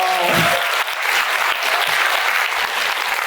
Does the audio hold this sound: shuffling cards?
no